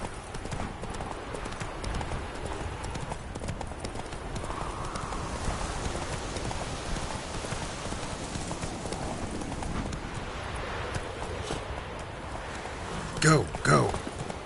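Horse hooves in The Witcher on PS5, a steady rhythmic clip-clop under faint background ambience that runs throughout, with a brief louder burst near the end.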